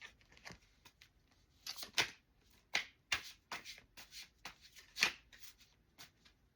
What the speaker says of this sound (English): And right now, I just keep shuffling, and here it is again.